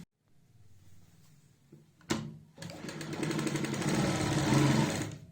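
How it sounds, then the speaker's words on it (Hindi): A sewing machine runs a straight seam on a salwar, starting with soft handling and a clunk before settling into a loud, steady, rapid mechanical whir close by. "ये देखिए हमारी यहाँ पे बिल्कुल सीधी सिलाई आ जाएगी"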